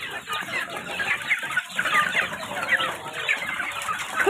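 Free-range village chickens in a coop, many birds clucking and chattering at once in a loud, dense, continuous flock sound close by.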